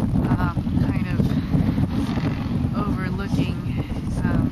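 Strong wind at night on Treasure Island, San Francisco, buffets the microphone with a constant low roar, and a person talks underneath it throughout.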